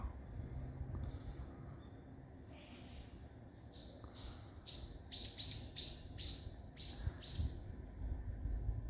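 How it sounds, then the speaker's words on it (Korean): Birds twitter on an autumn hillside at the edge of Seoul. A quick run of high chirps rises out of a faint, hushed outdoor background, sounding as if a small flock is passing nearby. "아까 그 저 새가 때로 지나갔는데 정말 시끄러웠습니다."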